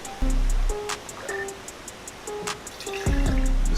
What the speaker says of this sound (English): Just pour our juice right in here.